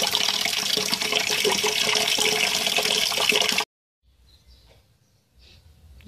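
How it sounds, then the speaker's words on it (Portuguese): Water gushes from a tap into a bucket, a loud continuous splashing pour for about three and a half seconds before cutting off abruptly, leaving only faint rustles and handling noises. "Vou pegar a torneira aqui"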